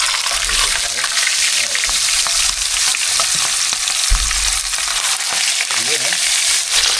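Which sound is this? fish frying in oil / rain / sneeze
fish frying in oil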